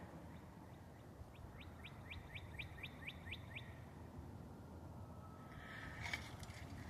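A northern cardinal chirps a quick series of about ten short, high notes in a steady rhythm, fairly distant over a constant low outdoor rumble.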